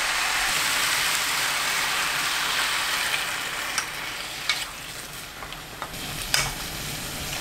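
Fish cake stir-fried in a pan with chili, green onion and sauce, giving a continuous bright sizzle with a few soft clicks and scrapes from stirring, close and steady without talk.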